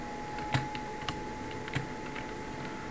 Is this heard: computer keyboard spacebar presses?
yes